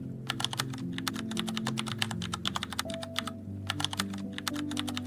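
Rapid, dense typing on a computer keyboard, a continuous clatter of crisp key strikes with no pauses, close and steady over a low tonal backdrop.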